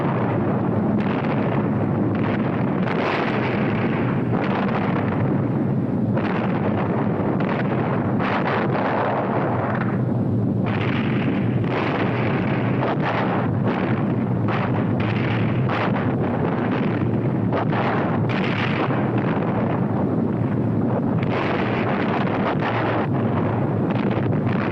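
Incendiary and napalm bombing raid on Tokyo at midnight, heard as a continuous roaring rumble of fire and wind with repeated muffled blasts rising and falling throughout.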